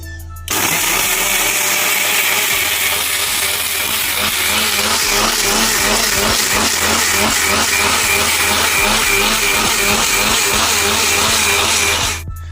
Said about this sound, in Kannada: ಇನ್ನು ಮಿಕ್ಸಿ ಗ್ರೈಂಡ್ ಮಾಡಲಿಕ್ಕೆ